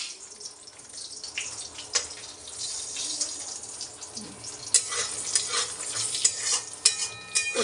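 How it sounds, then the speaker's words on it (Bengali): Bori, sun-dried lentil dumplings, frying in oil in a home kitchen, an uneven sizzle with scattered clinks and stirring knocks, growing busier and louder in the second half, no voices. "বড়িগুলো আগে ভেজে নেব।"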